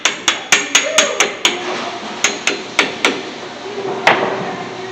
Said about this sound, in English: You may have to have a hammer to tap them on.